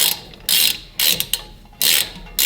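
A ratchet clicks as it tightens brake caliper bolts on a Dodge Grand Caravan, with three loud, close bursts of rapid clicking separated by short pauses and a few single ticks.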